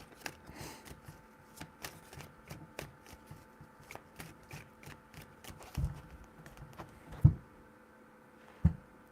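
Tarot cards are shuffled up close in a quick, regular patter of crisp card clicks, ending with a couple of louder thumps as the deck is squared, with no speech.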